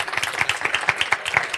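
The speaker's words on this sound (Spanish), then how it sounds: "un aplauso, por favor" Brief burst of audience clapping at a book presentation, a quick patter of many hands over a short moment.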